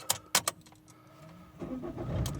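An Opel Zafira B 1.9 CDTI diesel engine starts: a few sharp clicks and knocks come first, then the starter cranks and the engine catches into a rising, steady idle at close range, with no talk.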